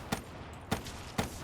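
Gunfire in a Doom map, three sharp shots spaced roughly half a second apart, each a loud broadband crack over a steady low game background.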